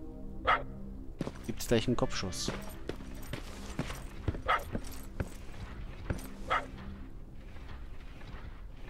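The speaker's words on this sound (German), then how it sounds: "Alter Hund, nervt nicht" Several sharp dog barks from the Terminator Resistance video game ring out amid game sounds and gunfire, spaced through the scene while someone talks over them.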